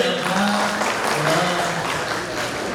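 An audience claps at a Khwopa cultural evening in Nepal, a dense continuous wash of applause from start to finish with a faint murmur of voices beneath.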